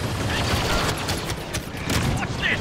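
Battle noise from Star Wars Battlefront II with a grenade blast buried in dense, continuous gunfire and booms throughout, loud and chaotic with no clear single detonation standing out.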